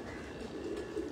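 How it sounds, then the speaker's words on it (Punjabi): Flying pigeons kept on a rooftop in Faisalabad coo softly and repeatedly in a low, throaty warble over a steady background, close by, with no talking. "ਇਹ ਤੁਹਾਨੂੰ ਉੱਡਣ ਵਾਲੇ ਕਬੂਤਰਾਂ ਦਾ ਸ਼ੌਕ ਕਰਾ ਰਹੇ ਹਾਂ"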